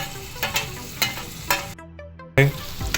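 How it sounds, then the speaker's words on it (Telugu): Onions and tomatoes fry in a kadai with a steady close sizzle, broken by stirring scrapes and a few louder bursts, with a brief near-silent gap midway. "ఆనియన్స్ కళాయిలో వేసాం దానిలో వేగి వేగిస్తున్నాం టమాటాలు వేసుకుంటున్నాం"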